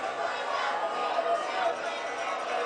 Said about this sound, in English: Crowd getting more riled up.